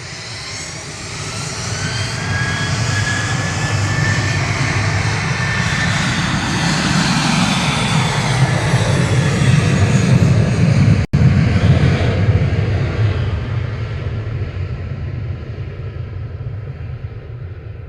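A Jet2 Boeing 737-800 jet airliner taking off at Manchester Airport, a loud sustained engine roar that swells and holds steady throughout, broadband rumble with a faint whine on top.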